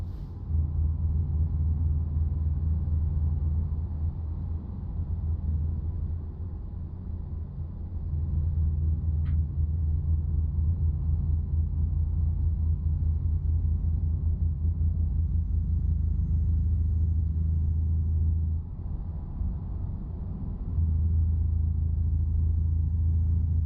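Euro Truck Simulator 2 truck engine gives a steady low rumble from up close, briefly dipping once and again toward the end, with no talking.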